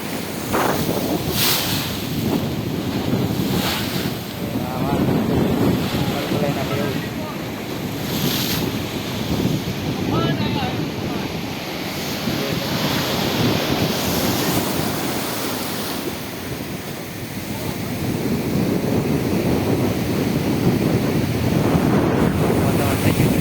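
A rough sea under bad weather heaves with heavy, crashing waves while strong gusting wind buffets the microphone. The roar is loud and continuous throughout, and no one speaks.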